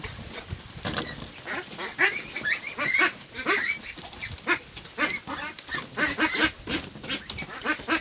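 Pekin ducks on a farm quacking and honking in a busy, overlapping chorus, many calls close by and loud, with no talking.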